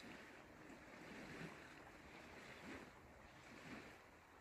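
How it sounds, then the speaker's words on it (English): Small waves lap against the shore of a lake, heard from inside a tent at a campsite: a soft, continuous wash with gentle swells every second or so, faint and distant, under light wind and with no voices. "Have a listen to the waves lapping up on the lake."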